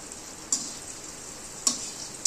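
Onions frying with spices in a pan give a steady, bright sizzle, close and moderately loud, broken by three sharp clicks or taps of a utensil against the pan. No one speaks.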